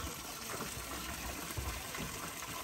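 A waterfall at El Pilón los Naranjos in El Salvador pours in a steady, dense rush of water, loud and continuous throughout with faint low rumbles, no voices.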